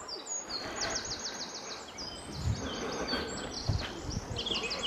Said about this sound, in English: Birds sound really nice.